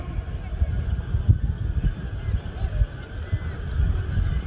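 Horses at a tbourida equestrian event in Dar Es Salam, Morocco, whinnying and snorting amid a dense low rumble of crowd and hooves, with voices mixed into the steady, busy background.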